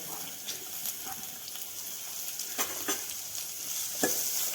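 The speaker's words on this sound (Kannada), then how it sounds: "ಉಳ್ಳಾಗಡ್ಡಿ ಸ್ವಲ್ಪ ಗೋಲ್ಡನ್ ಬ್ರೌನ್ ಆಗೋದು ಚೆನ್ನಾಗಿ ಫ್ರೈ ಮಾಡ್ಕೊಬೇಕು" Onions fry in a pan for dal tadka, a steady sizzle with repeated scraping strokes of a spoon stirring them at irregular intervals, close and moderately loud.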